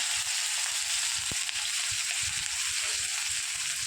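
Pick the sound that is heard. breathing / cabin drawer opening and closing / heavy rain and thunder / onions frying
onions frying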